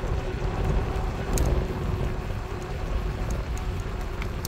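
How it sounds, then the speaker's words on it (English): Steady wind rush buffets the microphone while riding an electric bike along a sidewalk, a continuous low roar with gusts swelling and easing, loud and close throughout with no talking. "And here's the wind because it's a little windy."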